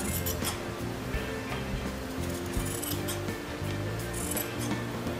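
Scissors trimming down a light fabric seam allowance, a run of close, crisp snips and small clicks over a steady background hiss.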